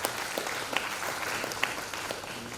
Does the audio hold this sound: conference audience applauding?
yes